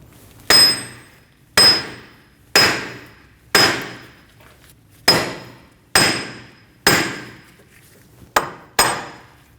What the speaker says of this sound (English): we're going to use a hammer and go around, hitting the side of the hub.